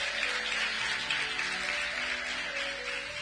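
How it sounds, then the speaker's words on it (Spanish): Steady, continuous clapping from a church congregation, an even wash of applause with a faint tonal hum underneath. "la recibimos con un fuerte aplauso a Cristo"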